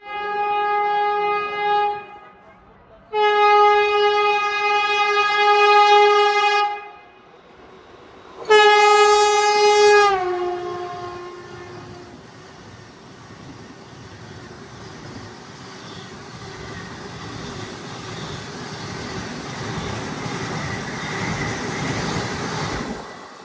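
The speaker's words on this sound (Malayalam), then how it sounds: "ഇപ്പോൾ ഇൻഡോർ നാഗ്പൂർ വന്ദേ ഭാരത് ഓവർടേക്ക് ചെയ്യും." The Indore–Nagpur Vande Bharat train overtakes with three loud, sustained horn blasts, the last one falling in pitch as it passes. A rising, steady rush of rolling wheels and rail noise follows.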